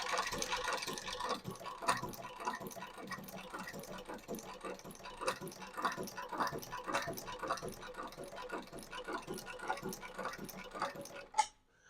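A heavy-duty shoe repair sewing machine with an enlarged shuttle runs smoothly and quietly in a steady series of light mechanical ticks and clatters, ending with a sharper click as it stops.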